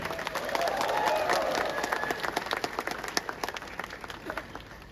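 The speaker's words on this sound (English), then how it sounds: "shall you all give a big round of applause for this public rally?" An outdoor crowd at a public rally against illegal taxation applauds with scattered cheers, the clapping thinning into looser, sporadic claps toward the end.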